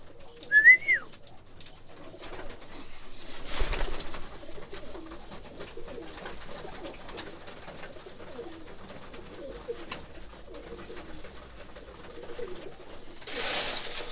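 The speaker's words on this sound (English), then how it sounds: "Nice and healthy little birds we got here." Soft roller pigeon cooing murmurs steadily in the background as the birds feed, with a brief chirp near the start and occasional rustling bursts.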